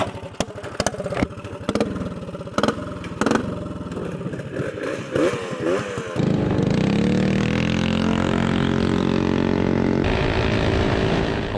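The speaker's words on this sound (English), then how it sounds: "let's go ahead and strap up and get these bikes on the road." Modified Suzuki Hayabusa motorcycles rumble nearby with uneven revs and clattering blips, then one pulls away in a loud, sustained engine roar that holds steady to the end.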